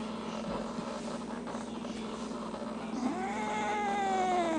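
A house cat meows indoors, one long rising and falling cry that comes in near the end after a stretch of quiet room hum and soft purring.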